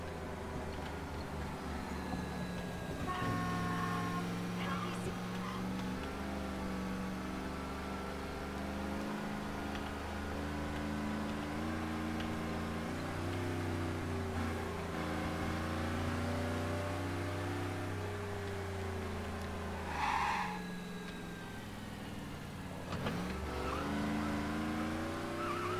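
A car driving in Mafia Remastered, with a steady engine drone and a harmonic hum that runs the whole time and shifts pitch now and then, plus a few brief tire and skid accents, with no one talking.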